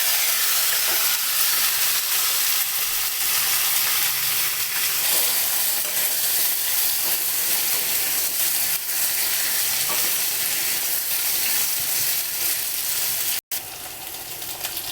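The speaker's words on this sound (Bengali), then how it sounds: "তেল দিয়ে দিয়েছি কড়াই, ওলটা আমি একটু ভেজে নেব।" Elephant foot yam fries in oil in a wok with a loud, steady sizzle and hiss that runs unbroken, with occasional stirring and no talk.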